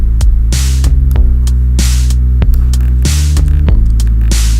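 Sustained synthesizer pad in a downtempo trip hop track, a loud steady droning chord with a throbbing pulse and short bright accents, no voices.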